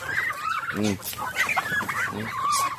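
Hungry backyard farm chickens cluck at feeding time, a cluster of close, busy clucks and squawks rising and falling in short bursts.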